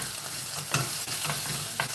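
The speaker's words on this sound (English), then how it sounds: "And the sizzle, yes, satisfying." Curry sizzling in a hot pan as it is stirred, a steady frying hiss broken by soft scraping strokes of the spoon at irregular intervals, close and fairly loud with no talk.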